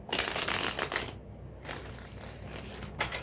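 Tarot cards are shuffled by hand in close, crisp riffling bursts, a loud run of papery flutters, a short pause, then quieter rustling and a final riffle.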